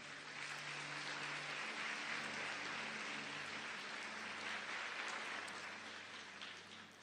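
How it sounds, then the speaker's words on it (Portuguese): A church congregation applauding, steady dense clapping from a crowd that holds evenly before tapering slightly at the end, with a low hum underneath. "Dê uma salva de palmas a Pedro e João."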